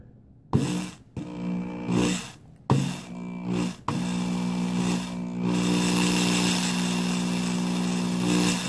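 Power drill motor whirring in bursts to wind a wire coil for a caterpillar track, starting and stopping a few times before running steadily, loud and close with no talk.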